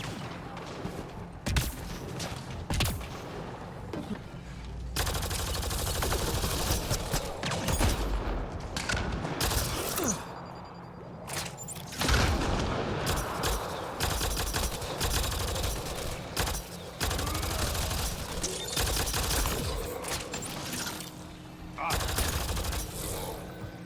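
Enemy energy-weapon gunfire in the sci-fi video game Mass Effect Andromeda, bursts of rapid shots and booms crackling steadily throughout amid game effects, with a voice talking over parts of it.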